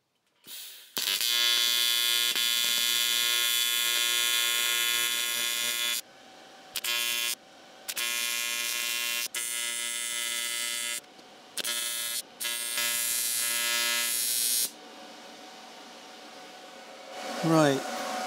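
Torch welding controlled by a foot pedal, putting tacks on a joint with a shortened rod: a loud, close electric buzz in several long and short bursts separated by brief silences.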